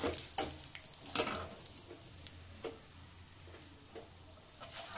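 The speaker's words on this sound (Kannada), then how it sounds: "ಈಗ ಕರಿಬೇವಿನ ಸೊಪ್ಪು ಫ್ರೈ ಮಾಡಿ" Curry leaves fry in oil with sparse, quiet crackles and pops, a few sharper spits near the start and then softer sizzling bursts, with no talking.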